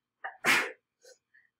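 A single sharp sneeze with a short inhale before it, quiet and fairly close, followed by a couple of faint small sounds.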